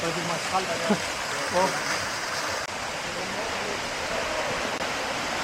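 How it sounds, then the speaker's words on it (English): A waterfall in Kosovo rushes with a steady broadband roar throughout, while voices talk briefly over it at the start. "So the further up you come, the larger the waterfall will be."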